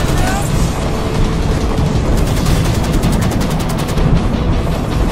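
Gunfire crackles through a dense, loud battle soundscape in a Fallout 4 Vietnam war mod, with rapid shots layered over a constant roar of combat.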